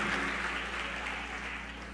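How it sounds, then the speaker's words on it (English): A church congregation at a Sunday morning service clapping and cheering together, a dense, steady wash of applause that sounds fairly distant and quiet, with no distinct voice on top. "clap those hands and make some noise"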